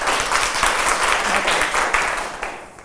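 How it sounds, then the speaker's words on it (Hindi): A classroom of students applauds together in a dense, lively burst of clapping that holds steady for a few seconds before tapering off, with a few voices mixed in. "एक ताली हो जाए"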